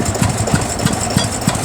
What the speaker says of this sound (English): It's a Turner Yeoman of England tractor, 1954, owned by G. Carson of Whiskey.